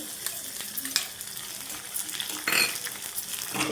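Crushed raw garlic cloves fry in hot tempering oil with spices, crackling and sizzling close by in uneven bursts, with a few brief stirring scrapes.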